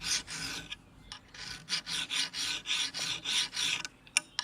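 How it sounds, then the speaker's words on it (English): A hand file rasps along the edge of a True Temper Flint Edge double-bit axe, lightly honing it in about a dozen steady, close strokes with a dry scraping rhythm and no talking. "then I'll draw file along the edge and just lightly hone it"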